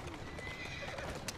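Horse neighing and clip-clopping hooves in the Assassin's Creed Syndicate video game, a steady stream of hoofbeats with a whinny over street ambience, heard alone without talk.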